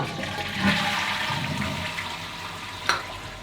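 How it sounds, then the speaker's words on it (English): A toilet flushes in a house bathroom, a steady rushing wash of water with a brief gurgle and a sharp clunk near the end, fairly close and alone. "Flush the loo."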